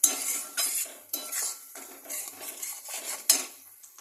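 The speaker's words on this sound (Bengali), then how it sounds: "আর সামান্য একটু হলুদ দেব, দিয়ে এটা ভালো করে মিক্স করব।" Mustard greens with salt and turmeric stirred in a pan for Punjabi-style sarson saag, with a spoon scraping and clinking against the metal in short, irregular bursts, close and fairly loud, no talking.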